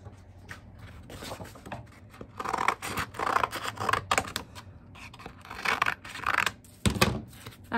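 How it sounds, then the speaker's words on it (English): Scissors cut through a piece of sandpaper up close, a run of rough, scratchy snips and rasps in irregular bursts with no talking. "I'm gonna cut a piece off of this because I don't need all of the sandpaper"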